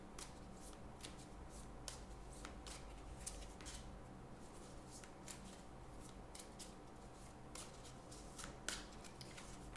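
Tarot cards being shuffled, drawn and laid out, giving a quick run of crisp, close card flicks and slaps over a quiet background, with no talk.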